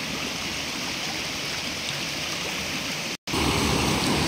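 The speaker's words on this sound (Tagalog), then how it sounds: "At maliligo din si Nanay Lorna dito sa ilog ngayon mga kababayan" River water flows in a constant, fairly loud rushing wash from a shallow rural stream where people and a water buffalo bathe, briefly cutting out before resuming.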